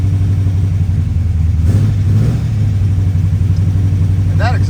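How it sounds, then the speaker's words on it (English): A 1969 Camaro Z/28 V8 with headers and dual Magnaflow mufflers idles with a loud, lumpy burble, swelling briefly in a light rev before settling back to a steady rumble. "that exhaust sounds so great"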